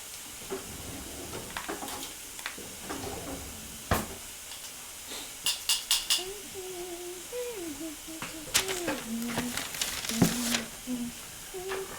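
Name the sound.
meatballs frying in ghee butter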